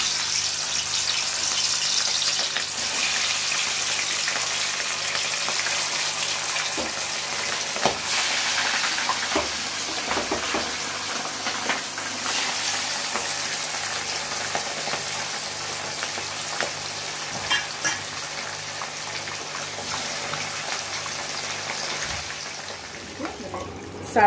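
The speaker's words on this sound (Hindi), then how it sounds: "अब इसमें हम लोग फिश को डाल के फ्राई कर लेंगे" Rohu fish pieces rubbed with turmeric and salt frying in hot oil, a continuous close sizzle with faint clatter over the whole stretch, lightly mixed with some background sound.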